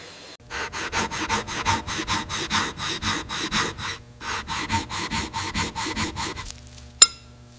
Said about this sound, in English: A milling machine precisely shaves a cylinder head, creating a perfectly flat surface.